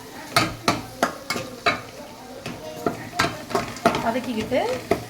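Masala sautéing in oil over a low flame for prawn fry, with a soft sizzle beneath repeated rhythmic scrapes and clacks of a spatula against the pan, close by, and no talking.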